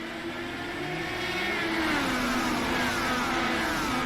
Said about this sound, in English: Great restart there for the race leader, Levi Hileman, working down to the inside.